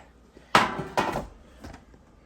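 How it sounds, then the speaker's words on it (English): A gooey smoked Rice Krispies treat mixture is dumped into a buttered pan, giving two soft thuds about half a second apart and then a fainter bump, quiet and close, with no talk. "We're going to dump these in our pan here."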